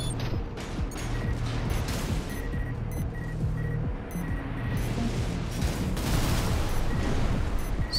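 A mech in Armored Core 6 lets loose a volley of rockets, a dense, loud, continuous rattling barrage with mechanical clanks and whooshes that swells toward the end.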